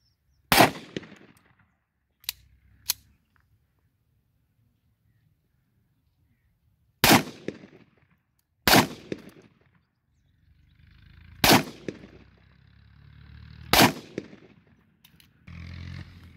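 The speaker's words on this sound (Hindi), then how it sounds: "एक एक राउंड डाल के दोस्तों फायर करूँगा" Single pistol shots from a 43-year-old TT handgun, fired one round at a time at a target about 25 metres away, sharp loud cracks separated by pauses of one to several seconds, with faint handling noise between.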